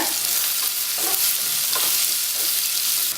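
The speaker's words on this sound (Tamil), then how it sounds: "வெங்காயம் பொன்னிறம் வர வரைக்கும் வதக்கிக்கோங்க." Steady sizzling and crackling of onions sautéing in a pan until golden, with occasional stirring scrapes, continuous and fairly close with no talking.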